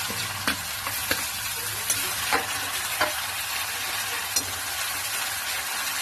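Crushed garlic and green chili paste sautéing in a hot pan, with a dense continuous sizzle and a few sharp clicks of a spoon stirring, close and without voices.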